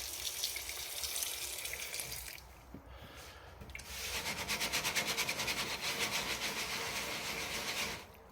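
Fermented coffee beans being rinsed by hand in water, a close, steady rubbing and sloshing with a brief lull partway through, then a denser, rhythmic scrubbing swish.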